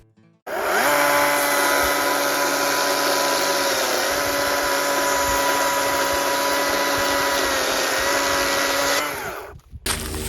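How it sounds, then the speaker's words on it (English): A STIHL MSA 160 C battery-powered lithium chainsaw runs at a steady high-pitched whine for about nine seconds, then cuts off abruptly. "this is the electric lithium battery chainsaw"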